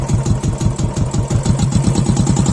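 Royal Enfield 350cc motorcycle fitted with an Indori silencer, its exhaust thumping steadily at a loud, close, fast-idle rumble with a continuous rhythmic beat and no talk.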